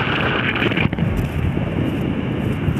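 Strong wind blows outdoors on a summer day, buffeting the microphone with a loud, continuous rumbling roar and no pauses.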